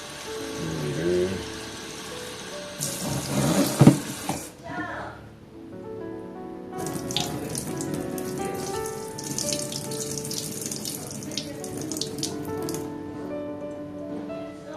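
Tap water runs and splashes into a potted Peperomia Hope plant and its drainage, coming in two bursts with a quiet gap between, close up, while a person talks over the pouring.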